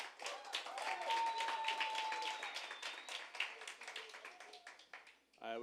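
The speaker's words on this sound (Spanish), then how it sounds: "Round of applause for the band." Audience at a plenary event clapping for the band, a fairly close burst of individual claps that thins out and fades, with a faint whistle-like tone and a voice at the end.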